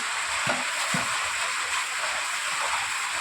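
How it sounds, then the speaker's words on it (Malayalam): Chicken coated in masala is stirred in a hot pan, giving a steady close sizzle with a few scraping strokes of the spoon against the pan. "നമ്മൾ ചിക്കൻ മസാലയിട്ട് കഴിഞ്ഞു ഇത് നല്ലോണം ഒന്ന് മിക്സ് ചെയ്യാം"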